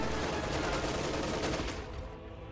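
Dense, rapid machine-gun fire in a real-time strategy match, a loud continuous rattle that thins and fades over its last half second.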